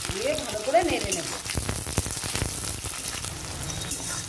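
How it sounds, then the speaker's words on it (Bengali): Sliced onions and split green chilies with nigella seeds frying in hot oil, giving a close, hissing crackle with a few scraping stirs, alone without talk. "তেল গরম হয়ে গেছে, কালো জিরা ফোড়ন দিয়ে দেব, কেটে রাখা পেঁয়াজগুলো দিয়ে দেব, চেরা কাঁচা লঙ্কাগুলো দিয়ে দেব, দিয়ে ভালো করে নেড়ে নেব।"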